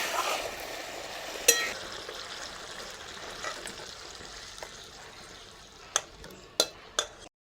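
Sating fish fry in hot oil in a pan with a steady soft sizzle, broken by a few sharp clinks of a utensil against the pan.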